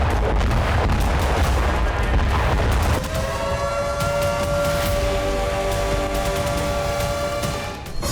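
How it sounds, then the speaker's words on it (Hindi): Powerful blast at the Dnipro hydroelectric power plant in the Zaporizhzhia region, heard as a dense, loud rumbling roar of booms and crackle, easing into a sustained tonal hum with a fading rumble beneath. "धमाका इतना जबरदस्त था जिसकी गूंज कई किलोमीटर दूर तक सुनाई दी"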